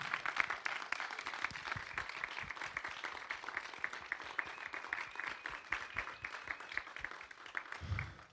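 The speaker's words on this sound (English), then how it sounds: "can we give another round of applause for Chris Hedges?" A conference crowd claps for keynote speaker Chris Hedges at an End of Empire event, a fairly quiet, continuous patter of many hands that swells slightly near the end.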